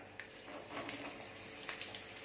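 Soft, steady sizzling of onions frying in a pan, with faint crackles and occasional stirring.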